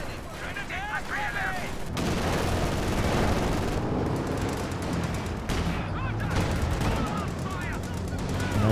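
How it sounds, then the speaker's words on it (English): Machine gun fire in the Company of Heroes 2 video game: sustained rapid bursts of automatic fire mixed with battlefield explosions and rumble, continuing without a break, with game sounds layered underneath. "in comes the machine gun"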